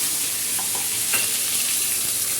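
Masala fries with curry leaves in a pan for a cauliflower sabzi, giving a dense, even, close sizzle that holds steady throughout with a few faint stirring knocks and no speech.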